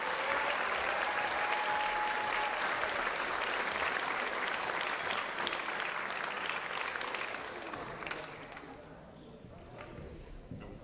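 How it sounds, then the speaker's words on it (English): Dense, sustained audience applause for JROTC cadets fills a high school awards ceremony hall, loud and steady before thinning out and fading toward the end. "Please give a round of applause to all these hard-working cadets."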